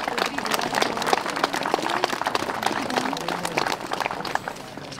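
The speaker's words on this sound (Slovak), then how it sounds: "jeden veľký potlesk pre vašich hasičov" A crowd at a ceremony handing over a Tatra 148 fire truck to the volunteer fire brigade of Liptovská Kokava claps for the firefighters, a steady wash of dense applause with a little speech and crowd noise mixed in.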